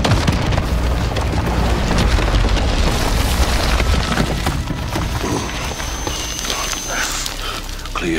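Dense, continuous battle roar of missile explosions in the video game Modern Warfare, with heavy low booms and crackling debris layered throughout, loud and close for the whole stretch.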